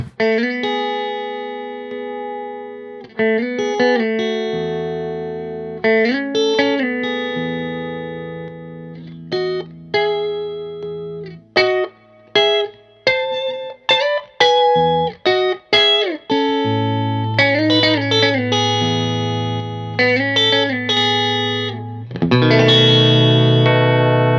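A clean electric guitar plays plucked notes and chords with a compressor toggled on and off, giving even, squeezed dynamics, some passages sounding fuller and more sustained than others.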